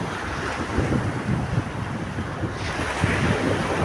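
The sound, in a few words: strong wind blowing outdoors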